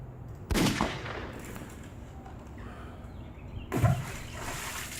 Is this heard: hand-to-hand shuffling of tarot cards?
no